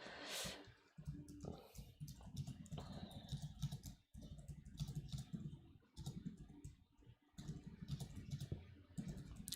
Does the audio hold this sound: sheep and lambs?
no